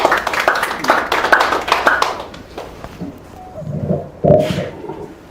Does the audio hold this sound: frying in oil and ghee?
no